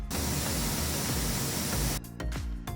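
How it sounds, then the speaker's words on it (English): Air hisses steadily as a vacuum pulls it through the stopcock of a rotary evaporator, a loud broadband rush that cuts off abruptly partway and then comes back in short bursts. "A hissing sound should be heard from air being pulled through the stopcock."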